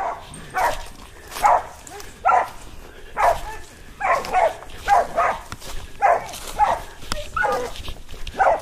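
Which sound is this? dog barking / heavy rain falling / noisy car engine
dog barking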